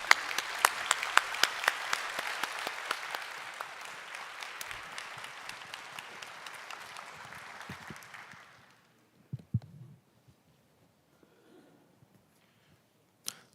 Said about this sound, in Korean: 우리 나오실 때 박수로 맞이해 주시길 바랍니다